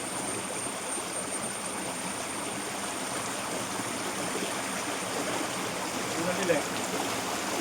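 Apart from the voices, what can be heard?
clear stream water flowing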